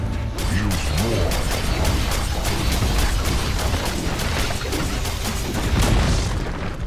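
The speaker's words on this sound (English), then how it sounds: "Dire's middle tower has fallen." A tower collapses in Dota 2 with a dense, loud rumble of booms and crashing debris that runs steadily for several seconds over repeated sharp impacts.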